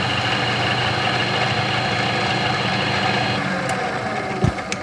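A small model radial engine runs steadily close by with a continuous mechanical chatter and rattle, the noise holding even for several seconds before a couple of sharp knocks near the end.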